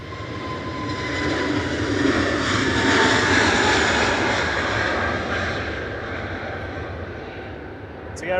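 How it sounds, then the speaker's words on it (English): EasyJet jet airliner departing Manchester Airport for Amsterdam, a steady broadband engine roar that swells to a peak midway and slowly eases, heard from a spotting position with talk over it. "EasyJet departing to Amsterdam"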